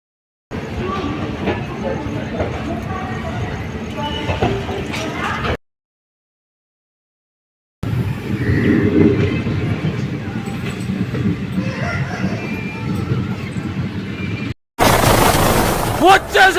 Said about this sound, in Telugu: train Lingampalli to Narsapur